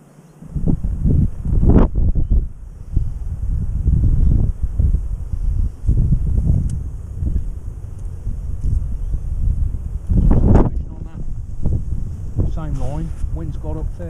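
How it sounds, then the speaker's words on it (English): Wind gusts outdoors at a riverside fishing spot, a steady low rumble buffeting the microphone for the whole stretch, with brief louder surges near the start and around the middle. "Wind's got up fairish now."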